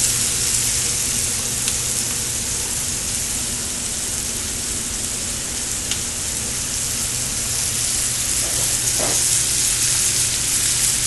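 Carrots, onions, celery and rosemary cooking in a pan on a restaurant stove, a continuous dense sizzle and frying hiss at steady loudness with a faint low hum underneath and no talking.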